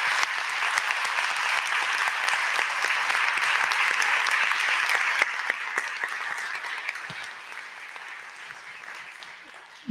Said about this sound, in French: peut-être qu'on peut l'applaudir à distance